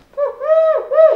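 A human voice imitates a pigeon with a low, hollow cooing hoot repeated twice in quick succession, close and clear with nothing else around it.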